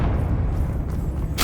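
The Confringo fire spell in Hogwarts Legacy goes off as a loud, dense booming rumble that swells into a sharper blast right at the end.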